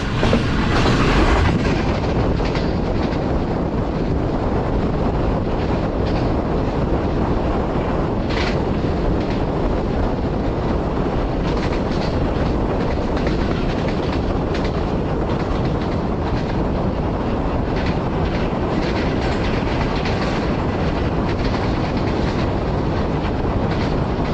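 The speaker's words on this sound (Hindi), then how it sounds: "दोस्तों ट्रेन अभी हमारी पास थ्रू होगी जेलम रेलवे स्टेशन से।" A passenger train rolls past Jhelum railway station, heard from inside the guard compartment: a steady, loud rumble with clickety-clack of wheels and wind buffeting, continuous throughout without talk.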